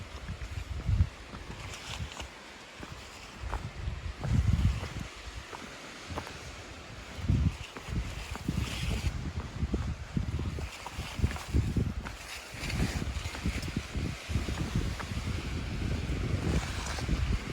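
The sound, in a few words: wind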